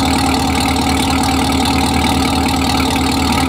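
A 750-horsepower Camaro ZL1 sits at idle, its engine giving a loud, steady, lumpy rumble with a constant throb close by, alone with no voices.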